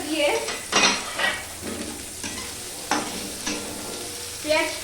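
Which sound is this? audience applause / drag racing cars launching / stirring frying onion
stirring frying onion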